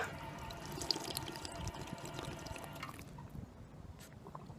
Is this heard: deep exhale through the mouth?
no